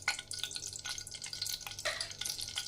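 Butter melting into hot oil in a kadai, a steady close sizzle and crackle with bright spattering bursts, no voices.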